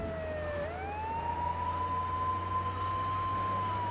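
A fire truck siren wails in Grand Theft Auto III, a steady electronic tone that dips then rises and holds over a low engine rumble, alone without talk.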